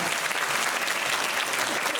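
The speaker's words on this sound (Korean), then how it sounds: "여러분 박수 한번 부탁드리겠습니다" Dense, loud audience applause fills a packed theatre after a film screening Q&A at a film festival, steady and unbroken throughout.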